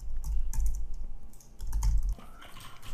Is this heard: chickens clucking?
no